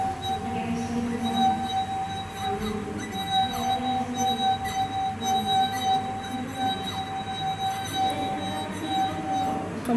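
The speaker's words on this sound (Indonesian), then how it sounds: "masukkan 3 ruas jari ke dalam gelas yang berisi air penuh. Lalu putarkan ketiga ruas jari ke bibir gelas." A drinking glass filled to the brim with water sings as fingers circle its rim, a steady ringing tone sustained for the whole stretch over soft rubbing and room noise.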